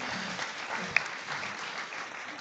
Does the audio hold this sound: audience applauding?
yes